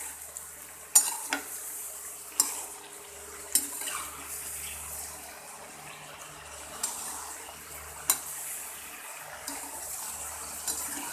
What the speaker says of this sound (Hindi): दोबारा अच्छे से इसको मिक्स कर लेंगे।